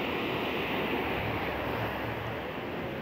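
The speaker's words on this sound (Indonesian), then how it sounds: "Kencang teman-teman ombaknya." Strong sea waves surge onto the shore during a coastal tidal flood on Java's north coast, making a constant loud roar mixed with wind buffeting the microphone.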